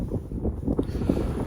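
Gusty wind on a coastal walk near Otterham Quay and the Swale buffets the microphone with a low, rumbling roar, continuous and fairly loud throughout.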